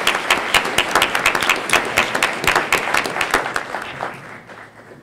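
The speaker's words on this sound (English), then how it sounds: "Let's give a round of applause, Congressman Ruben Hinojosa." Audience applause at a festival event welcoming a congressman, a dense round of clapping close by with distinct individual claps, steady at first and then fading away over the last second.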